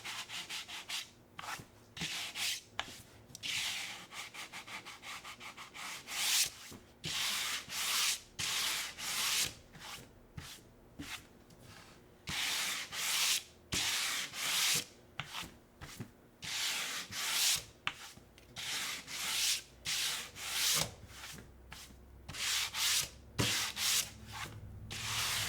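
Sandpaper rubbing back and forth over painted wood on a craft project, many rhythmic scratchy strokes repeating steadily and close up, with short pauses between passes and no talking.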